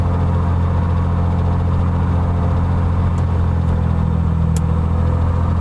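An engine runs steadily with a deep, even drone during an ignition check, with the key switched from both to the left position to watch the RPM drop. The sound is loud, close and continuous, with no voices.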